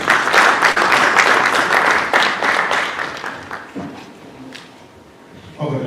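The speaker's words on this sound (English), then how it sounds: "give this panel a round of applause" Audience at a live North Texas development panel event claps in sustained applause for several seconds, loud and dense at first, then tapering off as the clapping fades.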